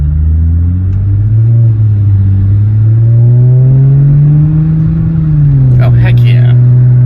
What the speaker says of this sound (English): just doing some revs and some flybys and some taking off and mild acceleration here and there.